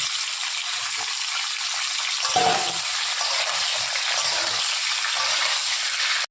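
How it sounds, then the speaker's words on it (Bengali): Potatoes and karkul fry in a pan with a soft, continuous sizzle close by, swelling briefly partway through, with no talk over it. "আলুটা একটু ভেজে ভাজা হয়ে গেছে, কারকুলটাও ভেজে নেব।"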